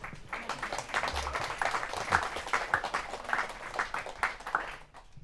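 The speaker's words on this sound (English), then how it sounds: "Please give yourselves a round of applause." Wedding guests applaud during a ceremony, a steady wash of many hands clapping at moderate distance for several seconds before it fades away.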